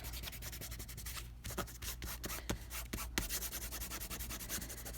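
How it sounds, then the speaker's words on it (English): Thumb rubbing hard across a paper napkin card laid face down, a close, continuous dry scraping with quick repeated strokes and brief scratchy bursts, no talking. "now I'm rubbing fairly hard and it's not ripping or tearing"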